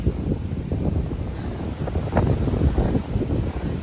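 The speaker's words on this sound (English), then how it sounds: "You can see the wind is too strong." Strong wind gusting over the Umanose ridge trail of the Suma Alps, a steady, loud rumbling buffet against the microphone that keeps up without a break.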